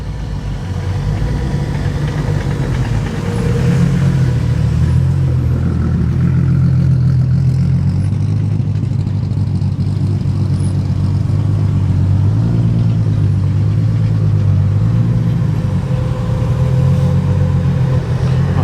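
Classic cars queue into a showground at a classic car event, a steady low engine drone of several vehicles idling and creeping forward, with electric cooling fans whirring, continuous and fairly close throughout.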